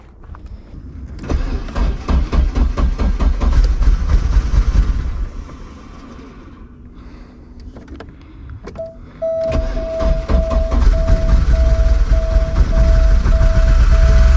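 A Porsche 944 engine cranks and fires after a crankshaft position sensor install, settling into a loud steady idle with rhythmic mechanical clatter; a steady whine or beep sounds alongside once it runs.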